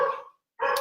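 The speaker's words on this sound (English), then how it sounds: "There's the barking." A single dog bark, then a short gap and a second bark, fairly close and clear, with no talk over it.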